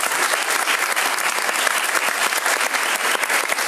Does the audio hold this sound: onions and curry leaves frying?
no